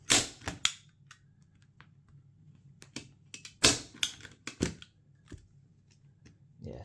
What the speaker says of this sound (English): Add a staple here.